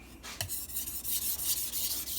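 Fine-grit sandpaper rubbing over a carbon steel Santoku knife blade, a steady close rasping scrape with a sharper stroke near the start, continuing without pause and no talking.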